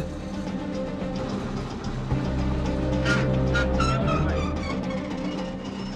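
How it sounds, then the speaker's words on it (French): A fire truck's diesel engine runs to power a hydraulic crane pump, giving a steady, loud rumbling drone with a bump in level around the two-second mark. "lance le moteur pour activer la pompe hydraulique"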